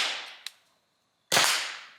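A pepperball pistol fires at a plate target about 15 yards away: one loud, sharp crack with a long fading tail, after a small earlier click and the trailing end of a previous report.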